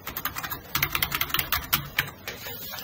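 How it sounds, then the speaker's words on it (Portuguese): Someone types on a computer keyboard in a text editor: rapid, close, crisp key clicks in uneven bursts, a short pause, then more taps, with no speech. "Aqui eu posso digitar o que eu quiser"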